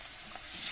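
Bay leaf, chopped garlic and onion sizzle in oil, a brief soft frying hiss with faint stirring taps, close and fairly quiet, growing slightly brighter toward the end.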